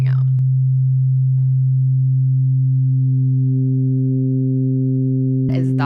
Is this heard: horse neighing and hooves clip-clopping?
no